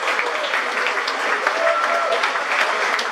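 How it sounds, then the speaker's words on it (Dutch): Warm, steady applause from a crowd thanking the jury at a fire brigade competition in Aalten, dense clapping with a few voices mixed in. "daar mogen we graag een hartelijk applaus voor"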